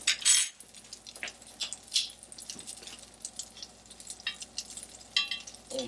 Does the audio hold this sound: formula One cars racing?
no